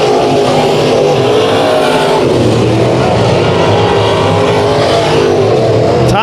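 Dirt track race cars roar around the oval during a heat race at KCRP, a loud continuous blare of engines at full throttle with overlapping motors droning and shifting in pitch, dense and close throughout.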